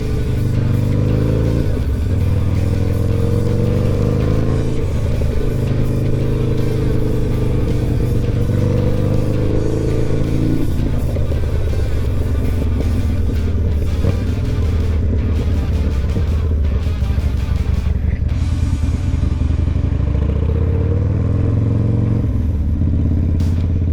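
A motorcycle rides along with a loud, continuous engine rumble under heavy wind buffeting, its revs rising and falling through the gears for the whole stretch.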